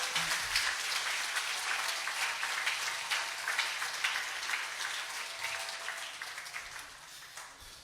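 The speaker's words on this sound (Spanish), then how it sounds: "¿Cuántos quieren darle un aplauso fuerte a este Dios?" A church congregation claps loudly in praise during a worship service, a thick, continuous roar of many hands that stays strong and eases off gradually toward the end.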